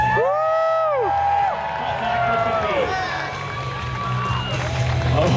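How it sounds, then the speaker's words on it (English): Spectators at a freestyle kayaking event at the GoPro Mountain Games in Vail, Colorado, cheer and whoop in bursts of high shouts over a busy crowd murmur, with voices mixed in. "Round of applause."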